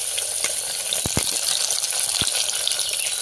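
Curry leaves and chillies frying in hot oil give a loud, continuous, close sizzle, with a few sharp spits and pops standing out near the middle.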